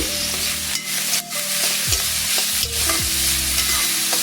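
Home-grown cauliflower curry ingredients with salt are stirred in a pan, a spatula scraping and knocking against the metal in repeated strokes over a constant sizzle, loud and close with nobody speaking.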